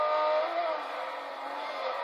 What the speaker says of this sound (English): You can hear how much they're having to balance the throttle through these sections.